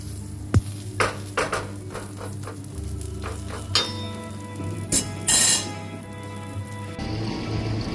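Omelet cooking in a pan at a hotel and restaurant kitchen, with a steady low sizzle under sharp clinks and scrapes of a utensil against the pan, several distinct knocks spread across the clip, no talk.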